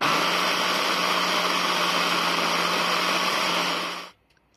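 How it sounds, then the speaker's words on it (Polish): A blender grinds walnuts, parsley, garlic and olive oil for pesto, a loud steady whirring roar running for about four seconds before cutting off abruptly into near silence. "No i blender."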